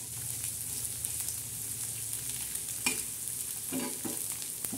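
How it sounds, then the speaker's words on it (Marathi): Egg bhurji with onion and green chillies is stirred in a pan, a soft steady sizzle with a few scraping strokes of the spoon, faint and alone. "मग त्याच्यानंतर अशी मस्त हलवून घ्यायची ती भुर्जी"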